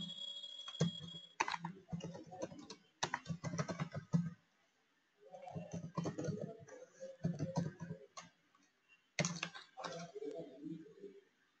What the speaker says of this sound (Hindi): तो फॉर एग्जाम्पल के लिए मैं यहाँ टाइप कर रहा हूँ